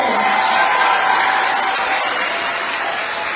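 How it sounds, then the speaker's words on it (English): A theater audience at Disney's Descendants the Musical applauds steadily, a dense wash of clapping that holds strong throughout and eases only slightly toward the end. "Let's get a round of applause if you're excited."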